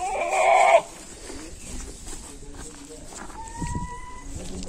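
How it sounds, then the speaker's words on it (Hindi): Aggressive male goat of Kota or Malwa breed on a farm, a loud harsh bleat at the start followed by quieter farmyard ambience, a bird's thin calls and rustling, with people talking nearby. "फुल एग्रेशन वाला बकरा है."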